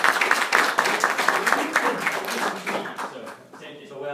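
A small group at an insurance training session claps for a colleague, a brisk patter of hands that thins out and fades near the end as a voice begins speaking.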